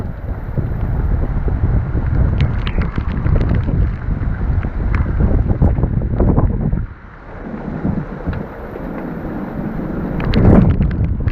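Strong gusting wind from an approaching severe storm front in rural Deep South Alabama roars steadily against the microphone, buffeting loudly for most of the stretch, easing briefly, then surging again near the end.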